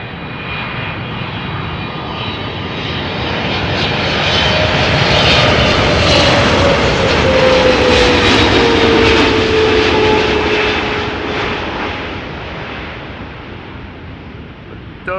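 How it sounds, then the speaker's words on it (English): Boeing 777-300ER, two years old, with GE90-115B jet engines passing at Schiphol airport: a broad roaring jet rumble that swells to a loud peak midway with a descending whine, then fades, with no talk. "Don't they sound good, those GE90-115Bs?"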